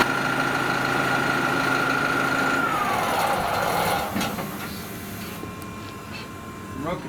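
A turbo diesel engine on an MVU 60 trailer unit idling through its cool-down period, a steady mechanical hum with a whine that drops in pitch midway, then a quieter idle with a few faint clicks.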